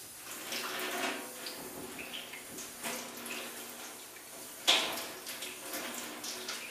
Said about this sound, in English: Just a matter of putting some water in the top and letting it run through the instrument until it looks clean.